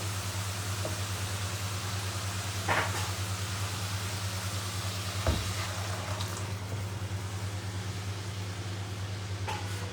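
Steady broadband sizzling of hot oil in a pan as a tempering is made for a moong, masoor and toor dal, with a low constant hum and a few soft clicks and taps.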